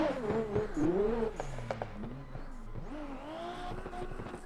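A Nissan S15 car engine revs and drops repeatedly as the throttle is worked while drifting on a snowy alpine rally stage in a video game, with tire squeal and rising and falling pitch, loud and close.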